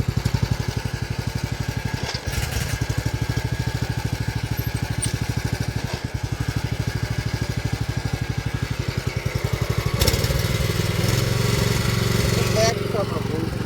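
A power weeder engine runs hard in tall grass, a loud, throbbing, continuous drone that rises in pitch and power when revved near the end, with voices partly over it.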